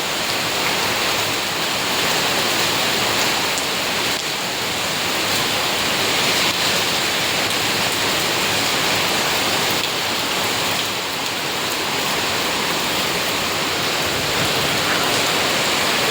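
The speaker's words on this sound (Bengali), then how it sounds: "একবার গেটটা দেখো, এত বৃষ্টি হচ্ছে।" Heavy rain pours down outside near a gate, a dense, loud, unbroken hiss of falling water that holds steady throughout with no pauses.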